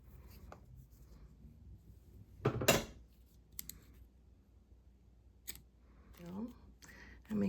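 Scissors cut a yarn tail while crocheting a small drawstring pouch, a close, brief crisp snip followed by light rustling of yarn, with someone talking around it.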